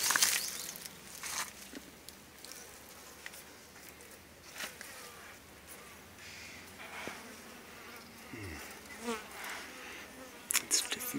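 Asian honey bees (Apis cerana indica) buzzing around a hive in Tamil Nadu, a faint continuous droning swarm with occasional rustles and handling knocks nearby.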